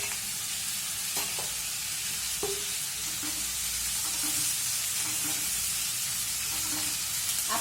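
Fish sizzles in a pan of hot oil, a steady dense hiss of frying that holds throughout, with occasional soft pops and faint clinks standing out from the continuous sizzle.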